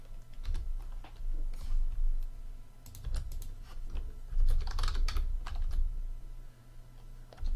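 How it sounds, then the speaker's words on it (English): Loud, rapid clacking of a computer keyboard, keys struck in uneven bursts with short pauses, close to the microphone. "Sorry about my insane loud typing."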